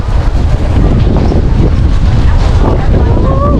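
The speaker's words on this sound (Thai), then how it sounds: "ลมตลอดเลย" Strong wind buffets the microphone at an open-air morning market in Xiangkhouang, Laos, a loud continuous roar throughout with faint background sounds beneath it.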